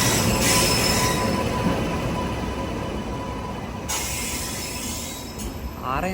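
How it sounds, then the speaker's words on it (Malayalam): Kannur–Yesvantpur Express rolling into a station platform, a steady loud rumble of passenger coaches with wheels squealing against the rails, close by and continuous, with faint voices around it. "ഇവിടെ 2ാം നമ്പർ പ്ലാറ്റ്ഫോമിലേക്ക് കണ്ണൂർ യശ്വന്ത്പൂർ എക്സ്പ്രസ്"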